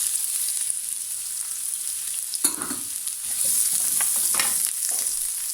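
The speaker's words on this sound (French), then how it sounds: "Je mets un oignon émincé." Sliced onion dropped into a hot oiled pan, a bright, steady frying sizzle up close with bursts of crackle and stirring scrapes partway through.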